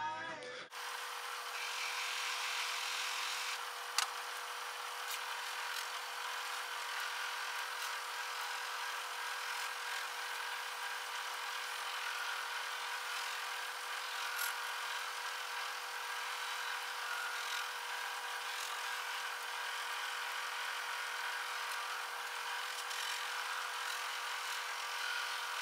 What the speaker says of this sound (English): take this to my buffer, put a little compound on it, and get it really high polish